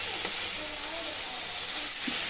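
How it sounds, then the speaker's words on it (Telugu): Boiled chicken stirred into a tomato masala in a pan for chicken biryani, a soft continuous sizzle with faint occasional scraping of the spoon, low and close, without talk. "ఇప్పుడు ఇందులో బాయిల్ చేసి పెట్టుకున్న చికెన్ని యాడ్ చేసుకోవాలి. ఈ చికెన్ అంతా బాగా కలుపుకోవాలండి"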